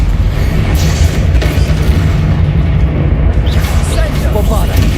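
A Confringo fire spell blasting in Hogwarts Legacy, loud booming explosions over a rumbling, busy combat scene, with a voice speaking over the noise.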